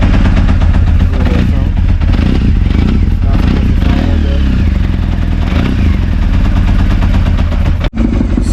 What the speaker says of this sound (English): it's not idling as if it's on full all cylinders